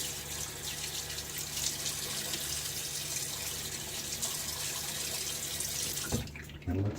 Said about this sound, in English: get my face wet one last time.